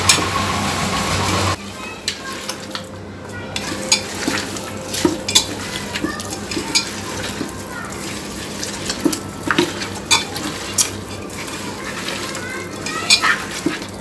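Raw beef is mixed by hand in a bowl for a beef dish with pointed gourd and potato, giving wet squelching and soft slaps at an irregular pace. A running-water sound comes first, then scattered clicks from the bowl.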